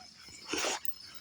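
A dog gives a single short, faint whine lasting under a second, with quiet background noise around it.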